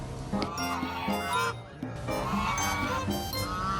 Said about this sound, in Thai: เป็ดอยู่หรือเปล่าน้องเสียงดังเลย